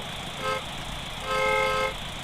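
A car horn gives two sharp toots, a short one and then a longer one, close and loud over a low background hum.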